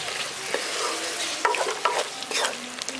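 Soybean kosha being stirred in a pan after garam masala powder is sprinkled over it, giving a steady low sizzle with scattered spoon scrapes and clicks, close and fairly loud, with no talking.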